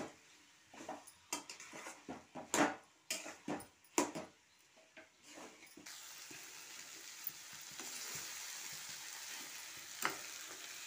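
Elephant foot yam stems with Maggi masala are stirred in a pan: scraping stirs and clinks in the first half, then a steady close sizzle of frying takes over, with a few faint knocks.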